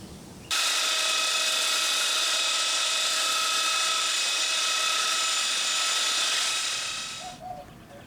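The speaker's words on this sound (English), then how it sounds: "time to hit them with a belt sander" A belt sander works over car running boards, a steady loud whine with strong tonal bands starting abruptly and running continuously for about seven seconds before tapering off, with no talk.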